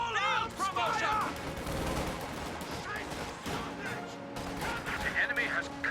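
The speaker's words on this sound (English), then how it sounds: "Contact! Small arms fire!" Small arms fire crackles in a video game battle, with quick bursts of rifle and machine-gun shots over steady combat noise, and a voice talking over the gunfire.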